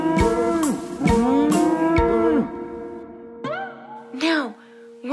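In a children's worship song, a singing voice imitates a cow with drawn-out 'moo' sounds over musical accompaniment, the repeated moos clear and close.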